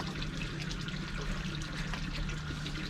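Yellow dechlorinator liquid is poured out of a container at a koi pond, a soft continuous splashing trickle heard close by, fairly quiet, with no speech.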